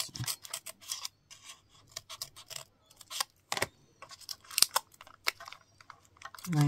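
Small craft scissors snipping and trimming material for embroidery hoop wall art, a quick irregular run of close, crisp clicks and cuts with short pauses between them.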